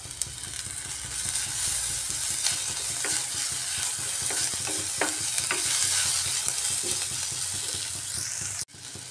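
Chopped ginger and garlic fry with onions in a hot pan, a steady close sizzle with occasional stirring scrapes and taps, ending abruptly.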